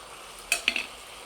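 Vegetables frying in a pan with salt and green chilli are stirred once, giving two or three short scraping clinks of a utensil against the pan over a faint, steady sizzle.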